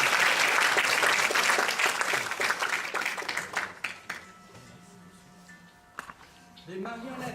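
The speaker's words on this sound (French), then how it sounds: "Applaudissez d'abord." An audience at a presentation claps loudly for a few seconds; the applause thins out and fades, and a voice speaks briefly as it dies down.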